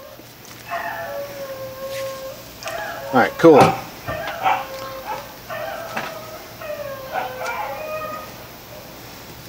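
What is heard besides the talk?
coyotes (song dogs) howling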